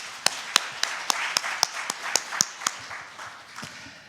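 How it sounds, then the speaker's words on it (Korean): Sparse clapping from a small audience welcoming a presenter at a 2024 guardianship conference session, about a dozen sharp distinct claps at an uneven pace, fairly faint and thinning out toward the end. "박수로 맞이해 주십시오"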